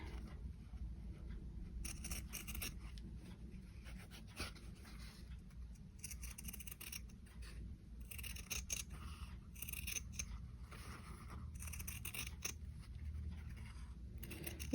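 Scissors with a dry, unoiled hinge cutting quilt fabric, a series of crisp snips in irregular bursts close up, over a low steady background hum.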